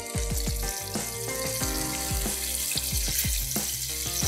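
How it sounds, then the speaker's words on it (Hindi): Fish deep frying in oil in a pan gives a steady, dense sizzle that holds at an even level throughout, close and fairly loud, with no talking. "जो फ़िश है उसको भी हम कर रहे हैं डीप फ्राई"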